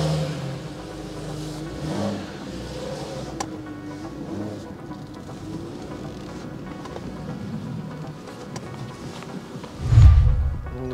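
A BMW E46 car idles as it is turned around, its engine humming steadily before a short, loud rev surge near the end.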